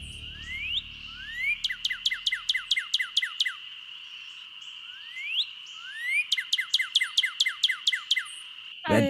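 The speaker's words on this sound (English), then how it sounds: "northern cardinal" A northern cardinal call from the Nancy Drew: Ghost Dogs of Moon Lake video game: two clear bursts of rising whistles followed by rapid descending chip series, crisp and close against a steady high hum.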